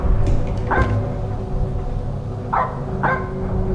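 A dog barking in a horror video game, a few short sharp barks, one early and a close pair later, over a steady low ambient hum.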